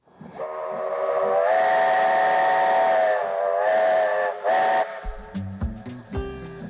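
A steam locomotive whistle blows loud and long, sustained with a couple of short breaks, then fades into rumbling and clanking of an excursion train pulling ten carriages.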